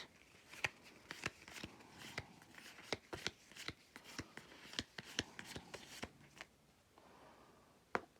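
Repeated crisp riffling bursts of playing cards being shuffled, close and fairly quiet, arriving in an uneven rhythm with short pauses between.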